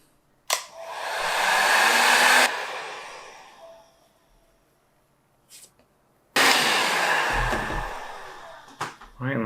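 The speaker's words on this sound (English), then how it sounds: "heat some foam" A heat gun heats craft foam for cosplay, with two loud steady blowing bursts of about two and three seconds each, separated by a quiet gap that holds small clicks and handling noises.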